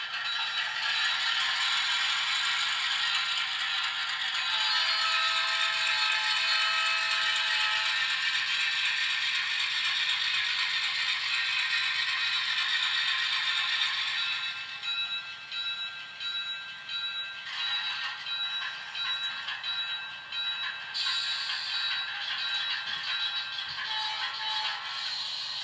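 An Atlas HO scale Alco RS-11 model locomotive runs under throttle with a steady high-pitched motor whine and rattling mechanism noise, shifting tone partway through.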